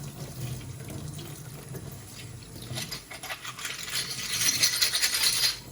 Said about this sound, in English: turn some water on